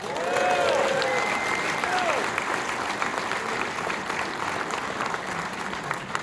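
An audience applauds at the Los Angeles premiere of a documentary film, a loud, dense wash of clapping with scattered whoops and cheers that stays strong throughout and tapers slightly toward the end.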